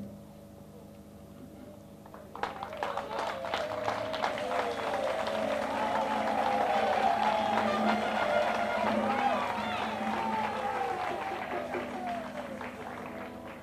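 A church congregation breaks into applause and cheering acclaim for a husband at a Sunday religious service. Clapping starts abruptly after a quiet moment, then swells into a sustained, dense roar of hands and raised voices that continues to the end.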